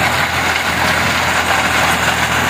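A Massey Ferguson 241 DynaTrack 42 HP tractor runs a 7 ft rotavator through farm soil in Maharashtra. Its engine drones loud and close in a constant, heavy, dense roar with no pauses.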